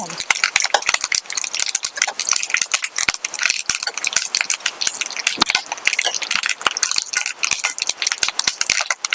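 Rice rava fries in a pan for pulihora while a spoon stirs it continuously, producing loud, dense scraping and clicking strokes over a constant crackling sizzle throughout.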